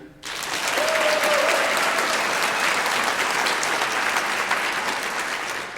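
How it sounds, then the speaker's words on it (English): An audience claps hands in response to a question at a live event, the applause swelling quickly to a full, steady roar and holding strong, with a brief voice tone near the start. "Clap if you've attended a game played by a women's team in the last year"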